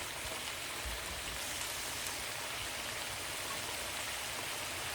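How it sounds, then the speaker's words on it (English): Picadillo simmers in a pot after about half a cup of extra water is added, giving off a faint, even, rain-like bubbling hiss that continues steadily throughout. "I'll add a little bit more water, about another half a cup, give or take."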